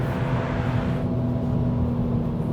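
A BMW 340i cruising at high speed, with a steady, loud drone of engine and road noise filling the cabin from start to finish and no one speaking.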